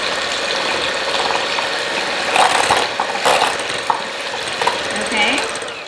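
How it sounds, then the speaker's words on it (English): Eggs and egg whites being whisked by hand for chile rellenos, a busy, steady rattling and scraping that runs throughout, with brief louder clatters in the middle and toward the end. "We're just gonna whisk these up really quick."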